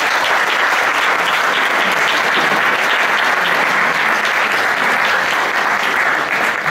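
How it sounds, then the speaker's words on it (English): An audience claps steadily and loudly for a singer at a live performance, a dense, even wash of applause that holds for several seconds without letting up. "So let's give our hand to Miguel and Antonio"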